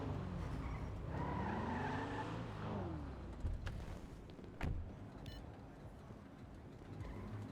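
A loud car skids in a video game, with a sustained tire screech and engine roar that sweeps in pitch, followed by a couple of sharp impacts over steady rumble.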